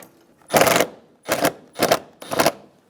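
Air box bolts on a 2007-2011 Toyota Camry being snugged down with a tool, heard as four short, loud bursts of rapid ratcheting, close up, with brief pauses between them.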